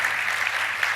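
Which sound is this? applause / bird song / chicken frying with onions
applause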